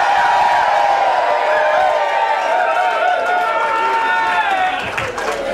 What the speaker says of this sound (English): Please give him a massive round of applause.